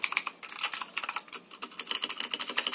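Fast, clicky typing on a Motospeed CK61 mechanical keyboard with blue switches, a dense run of sharp close keystrokes in irregular bursts with no talking.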